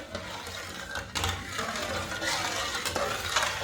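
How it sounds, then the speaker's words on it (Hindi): Grated coconut, white sesame and sugar being mixed in a pan for a quick sweet make a continuous scraping, stirring sound with occasional knocks of the spoon, close and moderately loud, with no speech. "अच्छी तरह मिक्स कर लेंगे।"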